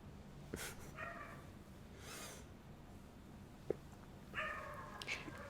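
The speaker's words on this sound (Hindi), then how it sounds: "आई नो ये कुत्ते काफ़ी भौंक रहे हैं" Several dogs bark in short bursts at a middle distance, with yips and a few sharp calls against steady background noise; no one speaks.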